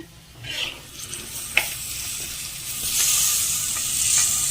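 Tomatoes dropped into sizzling crab gravy in a pan give a steady frying hiss that builds louder toward the end, with brief stirring scrapes and a sharp clink partway through.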